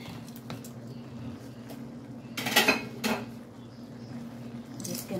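Cooked pancit noodles being mixed in a pan, quiet background hum broken by a short burst of utensil clatter and scraping midway, then a softer clink near the end.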